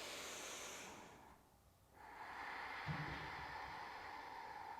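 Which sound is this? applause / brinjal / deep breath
deep breath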